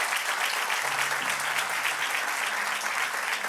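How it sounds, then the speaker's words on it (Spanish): Loud applause from a church congregation at a Spanish-language service in New York, a thick continuous roar of many hands clapping at once, held steady from start to finish, with a faint voice briefly underneath. "dale un aplauso bien fuerte al Señor"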